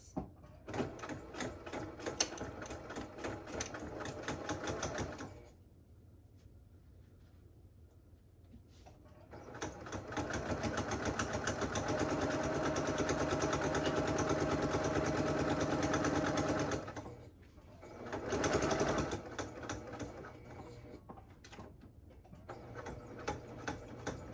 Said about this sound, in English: And we only sew the side, we don't need to sew the bottom.